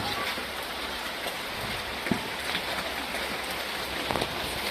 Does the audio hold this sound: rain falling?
yes